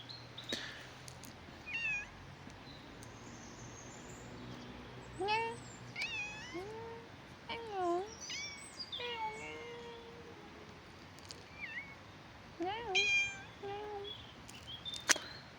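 A cat meows again and again, short rising and falling calls scattered across the stretch with quiet gaps between them, fairly close against a faint background hiss.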